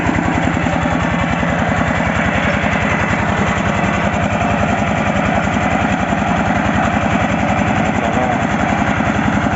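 A walk-behind tractor engine idles steadily and loudly close by, a continuous rapid chugging throb with vibration that holds constant throughout.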